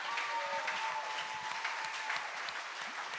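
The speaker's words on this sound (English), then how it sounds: "So please give them all a round of applause" Steady audience applause at an outdoor speaking competition, dense and continuous clapping with a few cheers mixed in, moderately loud throughout.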